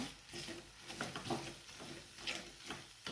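Egg bhurji with chilli powder and salt being mixed in a pan, heard as a soft, uneven run of close scraping strokes over a light sizzle, fairly quiet throughout.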